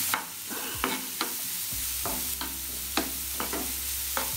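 Chopped onion, green chilli and ginger stir-fry in hot oil for a Kerala-style beef cutlet, with a steady sizzle broken by regular spatula scrapes and knocks against the pan.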